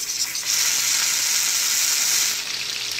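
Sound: pork ribs searing in hot oil in a frying pan

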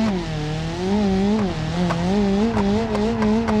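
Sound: car accelerating in video game BeamNG.Drive

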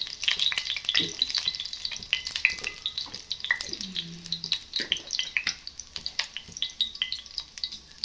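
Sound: tempering spices sizzling in hot oil

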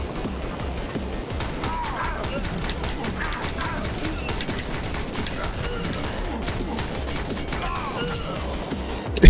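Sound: gunfire in video game Speed Limit

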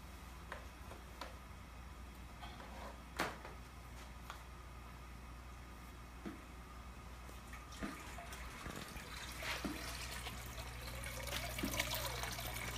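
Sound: water flowing through a still's cooling jacket

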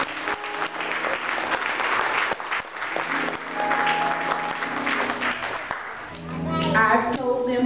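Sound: audience applause

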